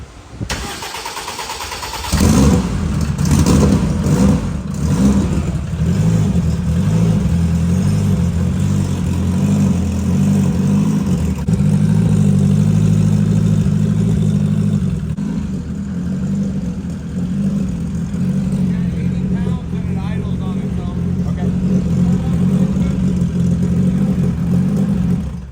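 A turbocharged Honda Civic engine cranks and fires up, then runs loud and close with a deep, rough idle and some revving that lasts around twenty seconds, and no one speaks.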